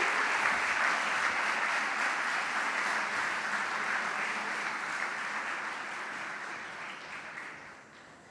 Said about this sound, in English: Please give a round of applause for this year Junior Academy's captain and SIMA Coaches Award,